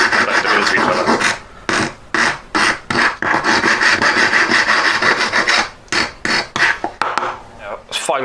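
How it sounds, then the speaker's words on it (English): A hand file rasps steadily against a small handmade metal brooch pin catch, rounding its end, in loud close repeated strokes with brief pauses between them. "Filing that rounded."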